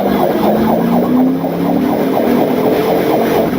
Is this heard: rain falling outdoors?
no